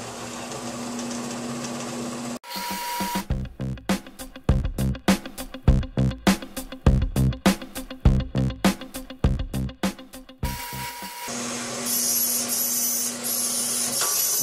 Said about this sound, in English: I'm going to start by cutting this edge off here with the other bandsaw